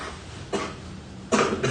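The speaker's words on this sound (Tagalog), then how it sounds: "Ubo-ubo." A person coughs twice in short bursts, one brief cough followed after a pause by a stronger double cough, close to the microphone against a quiet background.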